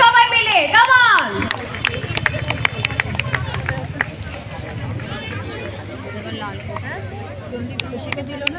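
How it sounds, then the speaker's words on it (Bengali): An audience claps for Sandipta Sen at a stage event: a steady, broad wash of applause follows a presenter's voice and carries on under scattered chatter. "একটা জোরে হাততালি হোক সবাই মিলে, কাম অন।"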